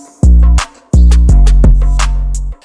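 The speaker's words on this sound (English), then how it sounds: "Altogether the drums will sound like this." A trap drum loop with heavy booming 808 bass hits, sharp snares and open hi-hats, plus a swung bongo pattern, plays loudly in two short bursts with a brief gap between them.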